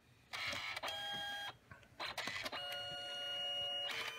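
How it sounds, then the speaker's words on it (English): Canon CP1200 compact photo printer running a two-picture print job, giving repeated mechanical whirring bursts with steady tonal motor whines and brief pauses between passes, close and clear with no talking. "I have sent two pictures to the printer here"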